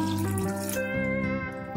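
Water pours steadily into a pot of vegetable thukpa soup, a continuous close splashing stream lasting under two seconds with no talk.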